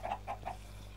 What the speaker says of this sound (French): C'est des poulets. C'est des wild chicken.